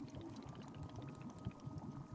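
Steaming hot water pouring from a tea machine in the game Wanderstop, a steady low liquid rush and gurgle running throughout at moderate level, no voices.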